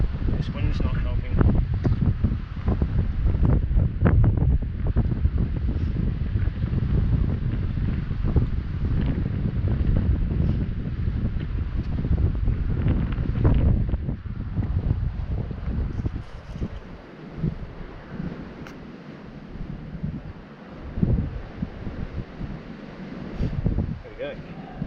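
Gusty outdoor wind buffets the microphone in a steady low rumble while fishing, with a person talking over it; the roar eases somewhat in the later part.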